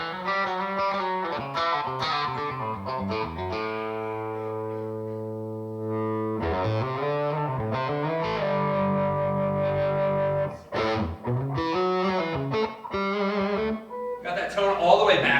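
Electric guitar with the tone knob rolled back for a warm, dark woman tone, playing sustained notes and chords with some fast runs, distorted and saturated, fairly loud throughout.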